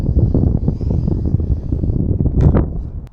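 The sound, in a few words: RC Factory Gripen model plane flying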